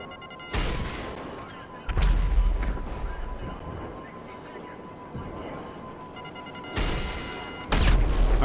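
Missiles launched and blasting in GTA 5 Online: several sharp, loud explosive bursts in uneven succession, two early and two late, each decaying into a rumbling tail, with a faint tonal hum beneath.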